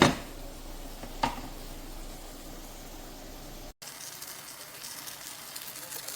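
Rice sizzles and fries steadily in a ceramic non-stick pan from a GreenLife Soft Grip cookware set, a constant close hiss with a brief clink early on, uninterrupted by talk.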